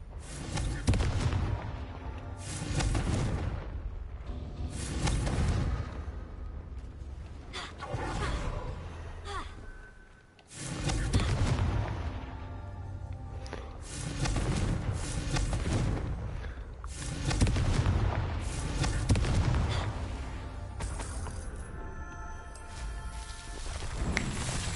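Repeated fiery spell explosions in the video game Hogwarts Legacy: a string of heavy booms and blasts go off every few seconds, loud and close, with whooshing bursts between them.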